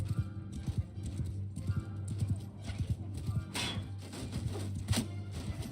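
Horse hooves thud in rapid repeated clip-clops during battle in the Viking war game War Sails Viking, fairly quiet under a low droning game background.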